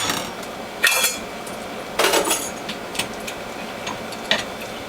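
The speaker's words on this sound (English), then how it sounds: "I'm going to clean the grid and clean the feed tube" A juicer's grid and feed tube being cleaned: a few sharp knocks and clatters of plastic and metal parts spaced a second or so apart, close by over a quiet background, with no talk.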